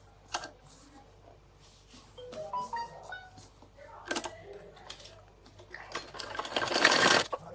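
A sewing machine runs in short, quiet bursts while stitching the edge of a salwar from the back, with soft clicks and handling noises between runs and a louder burst near the end.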